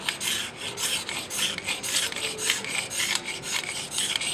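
Straight blade scraping the top layer off a freshly applied floor patch during a floor repair, a steady run of close, light rasping strokes in a continuous back-and-forth rhythm with no talk.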